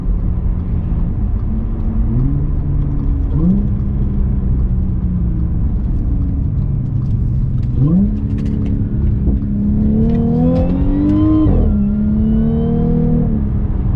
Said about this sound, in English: just get a load of these downshifts.